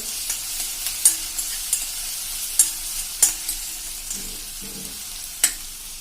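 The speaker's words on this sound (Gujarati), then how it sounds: "હવે આને આપણે 2 થી 3 મિનિટ સાંતળી લેશું।" Pav ragda mixture sautéing in a pan over a medium gas flame, with a steady soft sizzle broken by sharp scraping clicks of a spoon stirring at irregular intervals.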